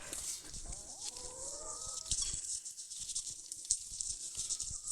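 Backyard chickens in a coop cluck and murmur at close range, with a few short, choppy calls early on over a hissy outdoor background.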